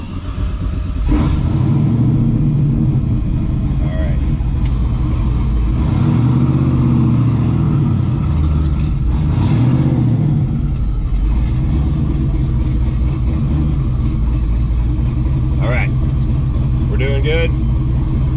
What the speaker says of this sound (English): I like to drive my race car in places that really shouldn't go